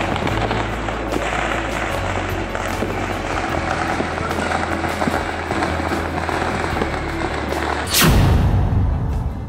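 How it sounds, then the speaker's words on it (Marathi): Fireworks bursting over skyscrapers at the Tokyo Olympics opening, a dense continuous crackle with low rumbling booms, then a sudden louder burst near the end. "गगनचुंबी इमारतीवर फटाक्यांची आतषबाजी"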